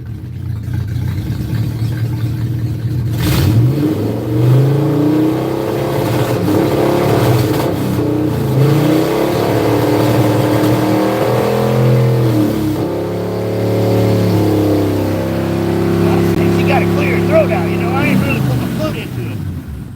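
A loud engine roars and revs unevenly up close, running rough on old fuel before dying, with someone talking over the noise at times.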